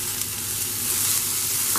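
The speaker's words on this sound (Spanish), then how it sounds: "vamos por la cebolla. ¿Escuchan? Característico de cuando algo se va a dorar" Chopped onion sizzles steadily in a hot oiled pan as it begins to brown, a dense continuous frying hiss heard up close with no voices.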